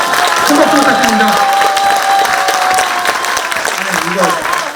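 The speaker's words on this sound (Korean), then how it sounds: "큰 박수 부탁드립니다." Big crowd applause at a Korean political rally, loud and sustained throughout, with scattered cheers and voices mixed into the dense clapping.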